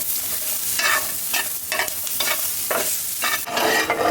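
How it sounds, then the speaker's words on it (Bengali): Close sizzling of garlic and chilies frying in a hot pan with rhythmic bursts of spoon scraping and tossing every half second or so, no voices. "ভর্তার জন্য রসুন আর মরিচ ভেজে নিচ্ছি"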